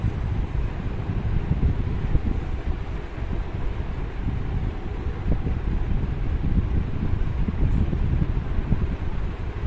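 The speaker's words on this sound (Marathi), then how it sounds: "दोन्ही साईडने थोडं थोडं फिरवून भाजते" Corn cob roasting over a gas stove flame, a steady low roaring rush of burning gas, close and constant throughout with faint crackles.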